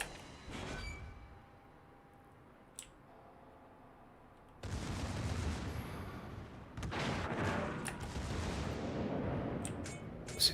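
Battleship shells fire in a naval combat video game, a long rumbling barrage of booms that starts partway through and builds into a loud, sustained roar with sharper bursts.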